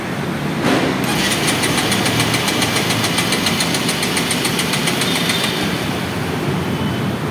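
A Honda CB 125 motorcycle engine, misfiring when wet from rain, fires up and runs with a steady, loud mechanical drone and fast rhythmic ticking throughout, alone with no talk.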